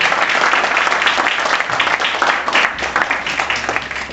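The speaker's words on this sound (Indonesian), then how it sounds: "Berikan aplaus buat Bapak Handoyo." Steady audience applause from a seated crowd at an indoor talk, dense continuous clapping that holds for a few seconds without any talk over it.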